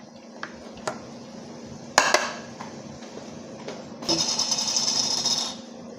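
Canned fish salad with chili, shallots, peanuts, spring onion, coriander and wood ear mushroom is tossed in a bowl: a few sharp utensil clinks, a louder clatter, then a stretch of steady scraping and stirring, with no voices.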